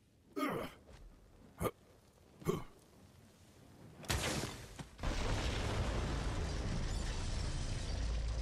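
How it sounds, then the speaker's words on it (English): Bombs detonate in the video game Borderlands 3, with several sharp separate blasts followed by a big boom that settles into a loud, sustained roaring rumble through the rest of the clip. "The explosion echoed through the forest"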